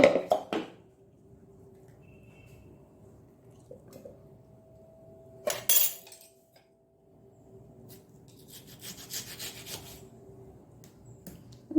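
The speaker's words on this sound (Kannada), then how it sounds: "ಈ ಪಲ್ಪ್ ತೆಗೆದುಕೊಂಡು ನಾವು ಒಂದು ಮಿಕ್ಸಿ ಜಾರನ್ನು ತೆಗೆದುಕೊಳ್ಳೋಣ" Sparse clinks and knocks of a mixer grinder jar being handled and set down, with quiet rubbing between a few sharp taps, no voices.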